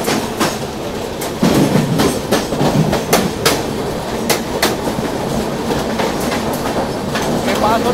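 Mandovi Express running from Mumbai toward Dadar, heard from inside an empty general coach: a steady loud rumble with repeated sharp clickety-clack wheel beats throughout.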